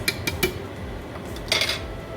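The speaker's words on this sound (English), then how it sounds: "We are gonna let this saute for a little bit" Rice and chicken sautéing in a pan while a utensil clinks and scrapes against the metal a few times, close up with a steady background hiss.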